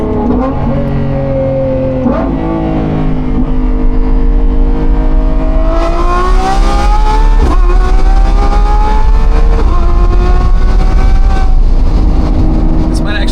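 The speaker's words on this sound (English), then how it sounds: "we have a Lamborghini Revuelto, so that only means one thing." A Lamborghini Revuelto fitted with a Gintani exhaust accelerates hard on an open road, its loud engine climbing through rising gear pulls with brief shift breaks, steady and close throughout, with voices faintly underneath.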